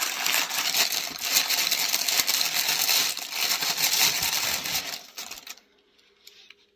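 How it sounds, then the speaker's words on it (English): A crinkly plastic bag is torn and pulled open close by, giving loud continuous rustling and crackling for about five seconds before it drops to faint handling sounds. "these plastic bags are super crinkly and noisy, so I'm going to get this thing opened up real quick"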